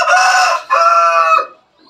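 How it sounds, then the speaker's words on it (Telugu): A village chicken lets out a loud, close crowing call in two drawn-out phrases with clucky breaks, heard alone and trailing off at the end. "కోళ్ళ సౌండ్."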